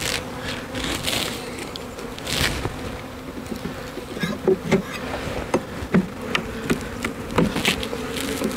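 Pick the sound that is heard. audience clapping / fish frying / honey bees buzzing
honey bees buzzing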